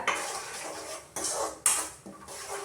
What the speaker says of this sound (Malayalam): എന്നിട്ട് നല്ലോണം ഒന്ന് ഇളക്കി കൊടുക്കുക